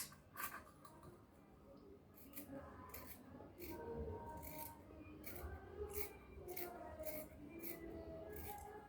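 Fabric pattern piece being cut out with scissors for a cowl neck top, giving repeated crisp snips and soft rustling at a steady rhythm, close and fairly quiet.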